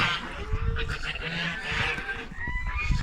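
Farmyard geese honking close by among other poultry, turkeys and ducks nearby, a string of harsh nasal calls mixed with clucks and bleating-like cries over a busy, steady background of livestock noise.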